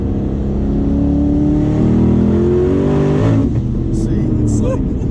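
A twin-turbo 1000 hp Camaro ZL1 revs hard, a loud, close engine roar rising in pitch before cutting off sharply near the end, with brief faint sounds after.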